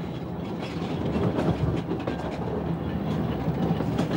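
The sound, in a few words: small train at Châtelard-Emosson running on rails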